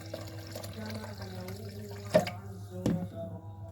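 Quiet running water with a low steady hum underneath, and a couple of brief splashy bursts as milk or water is added to rice in a blender.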